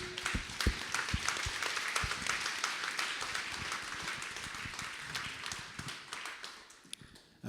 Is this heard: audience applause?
yes